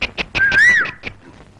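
A person whistles once in a Tamil comedy scene, a short, loud, clear tone that rises and then falls, set among a few soft knocks and clicks and no speech.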